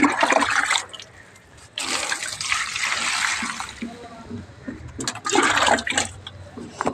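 Water poured over potted garden plants, a splashing gush in bursts with a quieter stretch between, close by with no talking.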